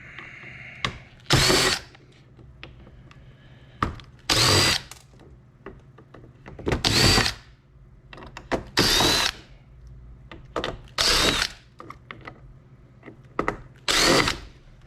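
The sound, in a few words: power drill removing screws from a computer hard drive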